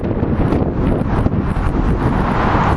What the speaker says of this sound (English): Forgive the wind, it just got all of a sudden extremely windy out here.